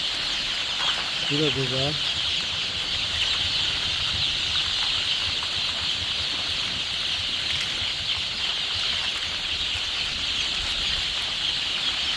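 Adler and Loman Sandy chickens in a poultry setting give a short cluck near the start, over a steady hiss of background noise, and a person speaks briefly.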